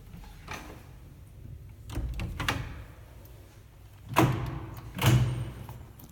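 Original doors of a refurbished old Stigler elevator in Zagreb slide and shut, giving a couple of dull mechanical thuds and rattles near the end amid low room rumble.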